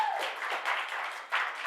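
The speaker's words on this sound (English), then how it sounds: "Another big applause for the player." An audience at a live coach's talk show claps for a player, a short burst of close, dense applause that swells again briefly toward the end.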